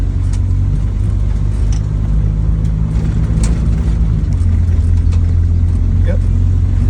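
Steady low engine rumble from a 1974 Ford Mustang on the road, a continuous near drone with no sharp revving, with people talking over it.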